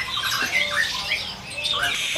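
Orange-headed thrushes in a bird kiosk give a busy run of high, squawking calls and chirps, steady and fairly close, with no talk.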